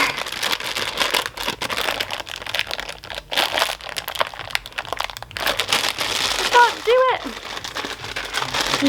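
Crinkly plastic packaging of a marshmallow packet being handled and pulled at while someone tries to open it, irregular crackles up close, with a brief higher squeak near the end.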